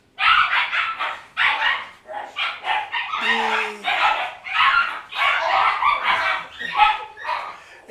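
Dogs barking and fighting on a rural farm in a quilombo community, a rapid run of loud yips, snarls and barks close by, with brief voices mixed in.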